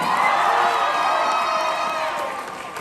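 A packed room at the Central Florida Comic Con cosplay contest in Lakeland cheers for the kids' walk-on, a continuous loud wash of crowd screams and whoops that fades slightly toward the end.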